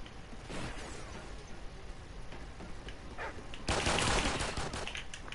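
Pistol shots in the first-person shooter Call of Duty Ghosts, a busy run of cracks and pops over constant game noise, building to a louder dense burst near the end.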